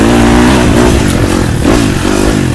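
A motorcycle engine in a stunt video game revs loudly and continuously, its pitch rising and falling through gear shifts, with a steady droning tone throughout.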